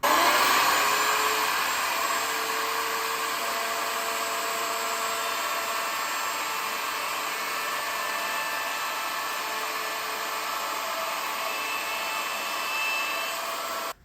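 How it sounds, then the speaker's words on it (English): Router table rounding over the edges of a poplar wine caddy: a steady, loud, continuous high-pitched whine with dense broadband noise, holding evenly for the whole stretch with no talk. "let's go to the router table and do a round over"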